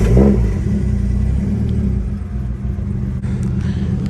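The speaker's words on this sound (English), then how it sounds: "I'm about to go ahead and start this car" A drift car's engine rumbles low and steady after starting, a close, heavy idle with a slight swell of revs early on and no talking.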